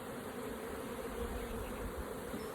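Honeybees buzzing steadily at the hive, a dense continuous drone held at an even level with no pauses, slightly higher-pitched as the colony fans orientation scent.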